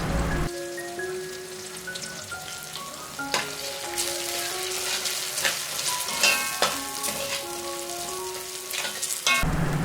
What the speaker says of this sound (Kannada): 1 ಟೀ ಸ್ಪೂನಷ್ಟು ಅರಿಶಿನ ಪುಡಿ, 1 ಟೇಬಲ್ ಸ್ಪೂನಷ್ಟು ಅಚ್ಚ ಖಾರದ ಪುಡಿ ಹಾಕ್ಕೊಂಡು ಚೆನ್ನಾಗಿ ಹುರಿದುಕೊಳ್ಳಿ